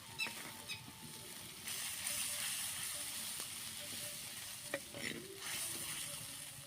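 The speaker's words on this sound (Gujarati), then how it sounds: "આમાં 2 ચમચી પાણી નાખીશું થોડુંક" Kashmiri chilli gravy sizzles and spatters in a pan over a desi clay stove as a little water goes in, a steady frying hiss with scattered pops and stirring scrapes, close and fairly faint throughout.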